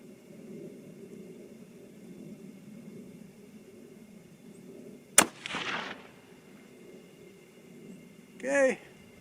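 A single sharp rifle shot cracks out while testing loads at a target, followed by a brief rumbling echo; faint murmuring sits underneath and another short burst of noise comes a few seconds later.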